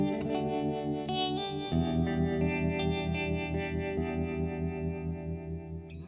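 Electric guitar through an MXR M305 tremolo pedal on its setting 12, sustained chords pulsing in a steady, even throb, loud and up close with no voices.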